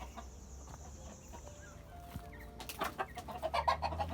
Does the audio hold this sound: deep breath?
no